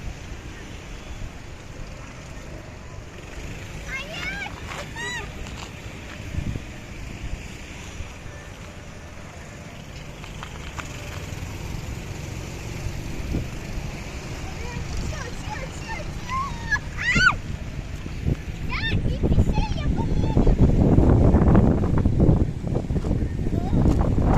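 Gusty outdoor wind buffets the microphone while a kite is being flown, a steady roar that swells louder toward the end, with voices talking over it.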